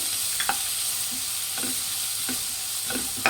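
Oil hisses steadily in a pan as curry leaves fry for a beetroot palya, with a few soft scrapes and pops over the constant sizzle, close and even.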